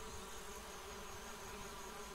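Buzzing of wasp-bees in the point-and-click adventure game Geheimakte 2, a steady, dense insect drone held throughout without breaks or speech.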